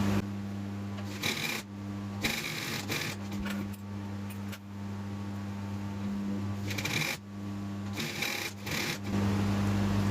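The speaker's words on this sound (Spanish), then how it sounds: "Le pasamos un pespunte." A sewing machine topstitches a seam on a quilted denim bag, running steadily with a continuous hum and rapid needle chatter, broken by short stops and restarts, close up, with no talking.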